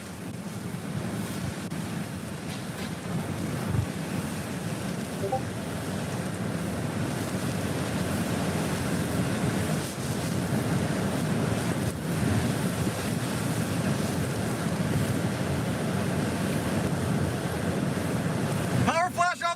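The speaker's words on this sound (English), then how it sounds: "Biggest gust right now." Hurricane winds roar in sustained, heavy gusts with no let-up, a loud broadband rush buffeting the microphone, joined by surf-like surging throughout.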